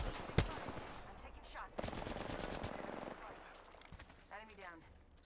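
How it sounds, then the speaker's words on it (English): Rapid automatic gunfire bursts out in an Apex Legends match, with one sharp loud shot and clusters of quick shots over game sounds, while a voice talks underneath. "I just shot somebody with blue right here"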